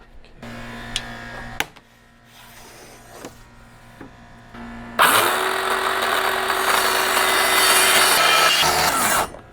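A power saw cuts a panel of wood inside a Sprinter van, first some scattered knocks and handling noises, then a loud, steady whine of the blade biting through the wood for several seconds before stopping.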